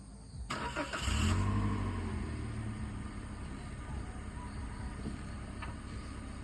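A car engine revs steadily with one wheel stuck in mud, giving a sustained low drone that swells early and then holds under faint background voices outdoors at a campsite.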